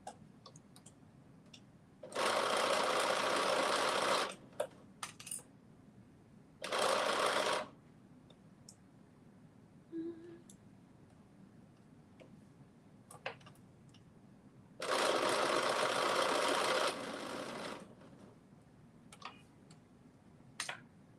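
Several bursts of a sewing machine running fast, close and loud, while stitching a drop shoulder long sleeve top, separated by quiet gaps with small clicks and fabric handling.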